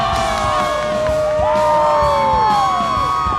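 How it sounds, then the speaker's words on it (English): Loud roaring football stadium crowd at a Notre Dame versus Virginia Tech college game in Blacksburg, dense cheering with high whoops and shouts rising over the steady roar. "Tremendous crowd here in Blacksburg, as is always the case."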